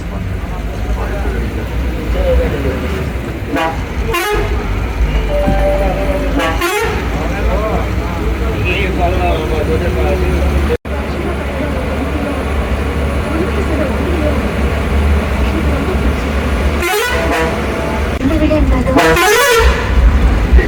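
KSRTC buses at the Maddur bus stand on a rainy evening, horns tooting repeatedly over steady engine rumble and traffic, with people talking in the background.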